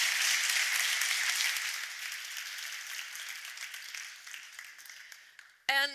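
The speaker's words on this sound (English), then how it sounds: "Give her again a big applause, Laurie Glover." A conference audience applauds a speaker at a women-in-tech event, a loud wash of clapping that slowly thins and fades over several seconds before a short voice cuts in at the end.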